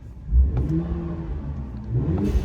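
A Ram 1500 Hurricane six-cylinder with a Flowmaster Signature Series catback exhaust revs up once, close and loud, then settles into a deep steady rumble with no talk over it.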